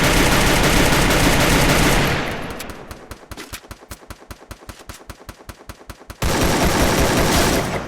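Rapid automatic gunfire from the Free Fire battle royale game sounds as a fast, evenly spaced burst of loud shots that follows a dense wash of game noise.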